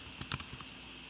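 Brief run of clicks from a computer keyboard being typed on, a handful of sharp, fairly close keystrokes in an irregular cluster over a quiet background, with no talking.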